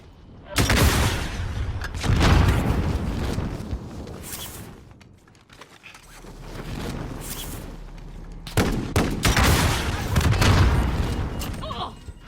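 Rocket launcher fire in Call of Duty: Modern Warfare Warzone, with loud booming blasts and explosions in bursts, easing off in the middle and then coming back, while someone talks over the gameplay.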